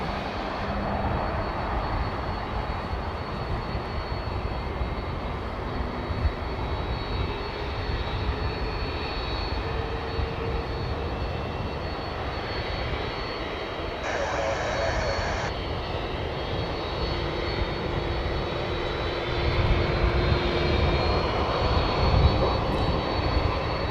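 Jet airliners at Dallas/Fort Worth airport, close to the runway, roar steadily throughout, swelling slightly toward the end, with a constant engine drone and no speech heard.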